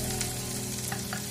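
Finely chopped onion frying in a pan for a pasta sandwich, a close, steady sizzle with faint stirring scrapes and no talking.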